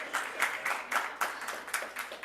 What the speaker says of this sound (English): Well, a big clap to Jasmine.